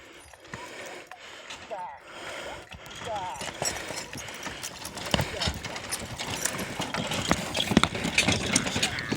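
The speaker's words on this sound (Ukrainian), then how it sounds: "Ось кобилки є." Mares' hooves clip-clop along a riverbank in winter, a steady irregular clatter that builds louder toward the end, mixed with mechanical rattling and people talking over it.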